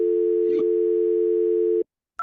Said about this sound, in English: Now I'll dial the phone